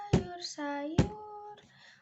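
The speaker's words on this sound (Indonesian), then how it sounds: "baris yang ketiga menggunakan tepukan meja" Hands slap a table twice in a rhythmic classroom exercise, each a sharp, close thump about a second apart, set against a clear sung voice that carries between and after the hits.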